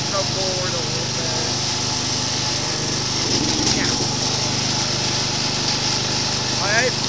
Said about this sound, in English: Something's going on with the mower